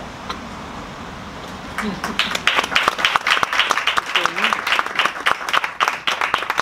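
Audience applause at a literary reading in Málaga begins after a quiet murmur and builds into dense, sustained clapping from many hands in the room.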